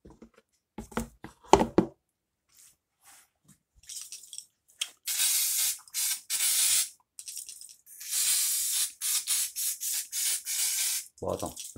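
An aerosol spray can sprays cleaner onto a car radiator in repeated short hissing bursts, some longer, close by, mixed with handling noises and scattered speech.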